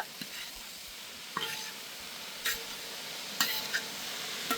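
A soft, low sizzle runs under a few sharp scrapes and clinks of a spoon stirring amaranth stem greens in a pan.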